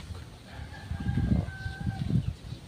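A fighting rooster crows twice in a row, fairly close, its calls rising over low rustling and clucking from nearby fowl.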